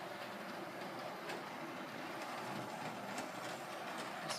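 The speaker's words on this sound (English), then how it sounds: "It's basically like a small steam train journey." A Hornby Santa's Express model steam train runs along its track in a steady, continuous rolling rumble with faint clicks, heard close and without any voices.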